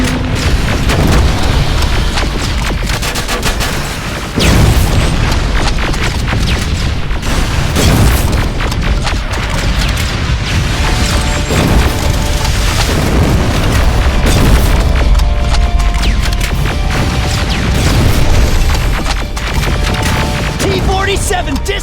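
An enemy T-47 blows up in the Terminator Resistance video game, a loud continuous roar of booming explosions and crashing debris with a brief dip partway through, with game voices talking over it.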